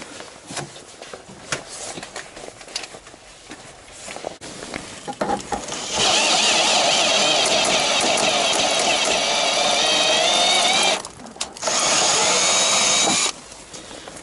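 A thread is tapped into the roughly 3mm-thick head of a weld stud on a Ford Ranger/Mazda B2500 radiator core support bracket. A few faint clicks give way to a loud, steady power-tool whir lasting about seven seconds, with one brief dip.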